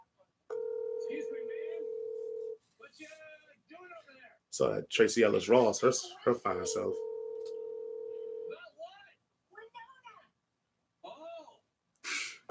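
A telephone call rings out unanswered, with steady ringback tones in long repeated bursts, while people talk and exclaim loudly over it in between.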